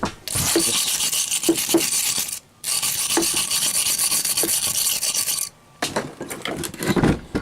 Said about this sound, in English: Get the wire brush.